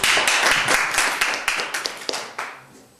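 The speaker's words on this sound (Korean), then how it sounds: "박수." Students in a high school classroom clap briefly after a speech, a fairly close burst of hand claps lasting about three seconds that fades toward the end.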